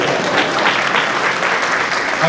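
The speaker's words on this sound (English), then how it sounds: "Clap for me." Audience clapping at a scientific conference; a dense, even round of applause from a crowd, steady and fairly loud for a couple of seconds, with faint voices mixed beneath it.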